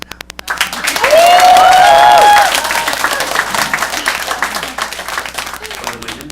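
Audience applause at a V-Mobile business presentation, building quickly into a loud, sustained clapping roar, with a voice heard over it early on, then easing slightly while continuing.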